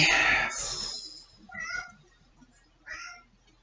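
A pet cat named Toto meows indoors, one loud drawn-out cry at the start followed by two shorter, softer meows spaced apart, close to the listener with no talking over them.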